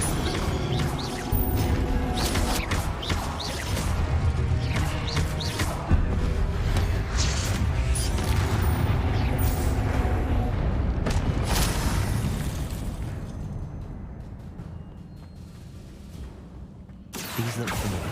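Spell casting in the video game Hogwarts Legacy: a dense, continuous run of magical whooshes, booms and crashing explosions layered with game music, loud throughout, thinning out near the end before a final burst.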